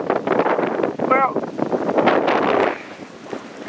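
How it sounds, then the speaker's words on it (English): Strong wind buffets an outdoor microphone near a utility ground connection with fiber optic cable, a steady roaring rush throughout that eases toward the end, with talk faintly mixed in. "it's windy as hell."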